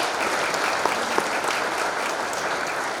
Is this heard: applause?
yes